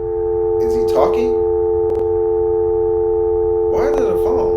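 A telephone tone sounding as a steady, loud electronic sine-like drone throughout, with voices talking over it near the start and near the end.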